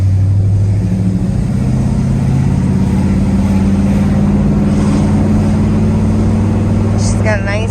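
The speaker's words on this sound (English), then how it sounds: "She's got a nice rumble. I really like the way it sounds." A 1969 Oldsmobile Cutlass rumbles with a loud, deep, steady engine drone heard from close by, and a voice speaks briefly near the end.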